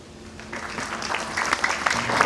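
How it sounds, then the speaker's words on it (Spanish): Audience applause at a Peru–Colombia binational exposition after a doctor's talk, clapping that starts soft and swells louder toward the end, with a faint voice underneath. "Un aplauso muy fuerte."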